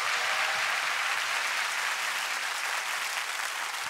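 Dense, steady applause from a studio audience on a Korean music talk show, evenly sustained clapping with no voices on top.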